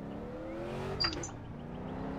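A Camaro street stock car in iRacing, qualifying at Southern National, drones with a steady engine note alongside tire and road noise, with a brief sharper burst near the middle.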